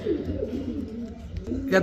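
Low, soft cooing of racer pigeons at a pigeon market hums steadily beneath nearby chatter and background noise.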